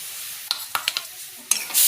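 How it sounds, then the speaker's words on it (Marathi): A coconut and sugar mixture is stirred in a pan for coconut vadi. A spoon scrapes in a few distinct strokes over a soft sizzle, close and alone, with no voices. "असं एकसारखं हलवून घ्यायचं आहे"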